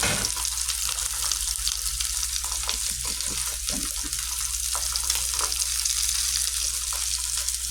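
Thick fish curry gravy fries in a pan over a low flame, a loud, close, continuous sizzle and bubbling with faint stirring, no voices.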